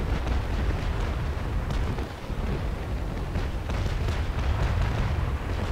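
Rolling, rumbling cannon broadsides from sailing warships in a naval battle game, dense overlapping booms forming a continuous heavy roar throughout.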